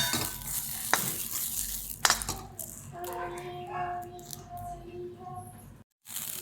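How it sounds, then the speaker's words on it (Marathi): Fresh pavta bean pods roast in a little oil, giving a close sizzle with spatula scrapes and clinks against the pan, plus some faint background sounds near the end. "थोडंसं तेल टाकून चांगलं भाजून घेते पावट्याच्या शेंगा"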